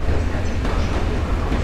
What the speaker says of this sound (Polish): Lubuszanin wjeżdża.